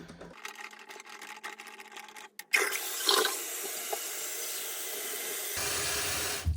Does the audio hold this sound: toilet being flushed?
yes